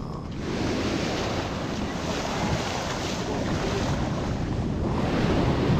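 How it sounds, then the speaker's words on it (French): Large ocean waves break in a continuous, broad roar of surf mixed with wind buffeting the microphone, steady and close with no voices. "les vagues sont énormes"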